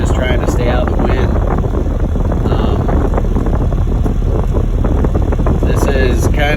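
Blizzard wind roars loud and unbroken across an open winter valley, a dense steady rush of gusting noise without any pause.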